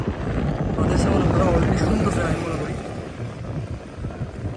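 Strong wind buffets the microphone with a loud, continuous rumbling roar that eases slightly toward the end, outdoors by the Sangu River in Bandarban.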